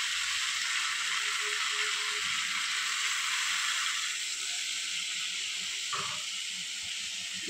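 Water poured into fried poppy seed paste for a ridge gourd and potato posto sets off a continuous, even steamy hiss and sizzle that shifts slightly partway through before settling.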